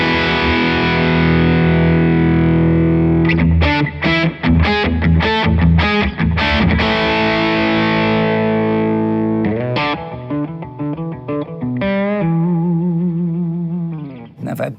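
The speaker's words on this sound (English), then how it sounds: "if you go all the way back, you get the woman tone, which is great" Distorted electric guitar through a Jared James Nichols signature rig, with the tone knob rolled fully back for a dark, smooth woman tone, sustained chords and a burst of fast picked notes and bends, loud and close with no talking.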